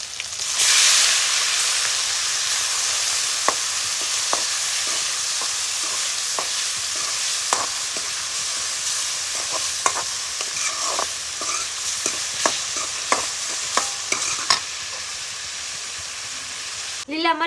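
Cumin, garlic and onion frying in a pan for a village-style brinjal dish, a loud, steady sizzle hiss throughout with frequent scraping and tapping of a stirring utensil close by.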